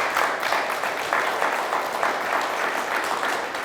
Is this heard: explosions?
no